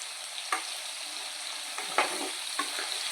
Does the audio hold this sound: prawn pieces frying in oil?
yes